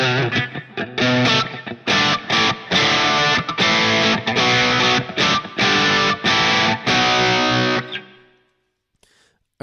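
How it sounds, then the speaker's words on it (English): Electric guitar played through the tube drive model of a Line 6 POD HD500 into a bright Marshall JTM-45 amp model, loud and distorted with choppy strummed chords and short gaps, ringing out and fading to silence near the end. "Let's hear the tube drive."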